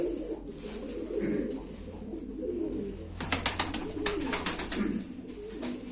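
Several pigeons, racing and tumbler birds at a live auction, coo in low repeated rumbles close by, joined later by a burst of rapid wing claps or flutters.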